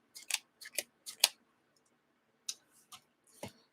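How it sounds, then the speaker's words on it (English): Playing cards from the Arkham Horror LCG card game being shuffled on a desk, a few quick crisp riffling bursts separated by short pauses, close and clear with no talking. "I will give everything a quick shuffle so you see me shuffling the cards here"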